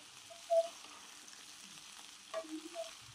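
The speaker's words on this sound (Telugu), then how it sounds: "తరిగి ఉంచుకున్న ఆగాకరకాయ ముక్కలను అందులో వేసుకొని బాగా కలుపుకోవాలి. ఇది ఫ్రై కాబట్టి అలా కలుపుతూనే ఉండాలి." Spiny gourd pieces fry in a pan and are stirred on a stove at low-to-medium heat. The sizzle is faint and quiet, with a few soft stirring scrapes near the start and end.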